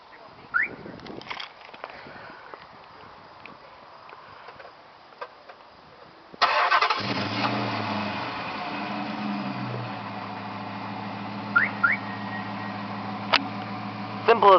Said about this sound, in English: all you got to do is hold the button and it'll start the engine